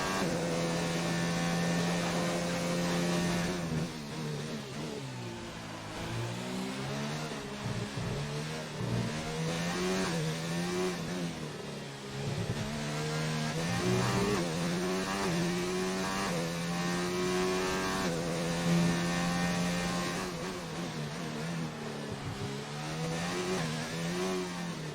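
Formula 1 race car engine from an Xbox F1 game holding a loud, sustained high-revving whine down the back straight at Abu Dhabi, pitch climbing through gear changes with brief dips between shifts.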